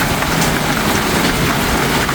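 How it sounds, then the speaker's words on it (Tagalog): Heavy rain pours down in a dense, loud, unbroken roar that stays steady throughout. "Basang-basa sa ulan"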